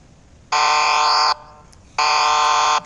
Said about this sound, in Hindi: आपका ये बजर हर 1 मिनट पर दोबारा से आपको मिलेगा।